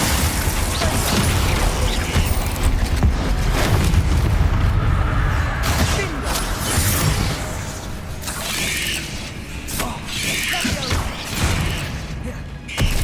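Bombarda and Confringo spell blasts in Hogwarts Legacy, repeated booming impacts and bursts layered with mechanical clanks and creaks, loud and dense throughout combat.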